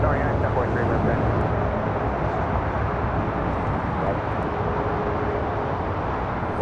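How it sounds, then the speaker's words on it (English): A United Boeing 787-10 Dreamliner on approach to runway 24 left at LAX gives a steady, loud, broad jet roar that holds constant for the whole stretch. "we have another United Dreamliner, 787-10 Dreamliner. Short funnel for 24 left"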